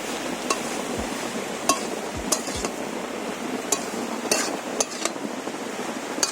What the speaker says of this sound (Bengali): সব কিছু খুব ভালো করে আরও একবার মিশিয়ে নেব।